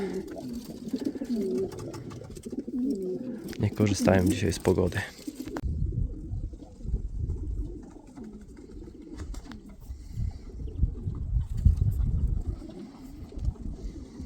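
Pigeons coo softly in the background while someone talks nearby, with some outdoor rumble and wind.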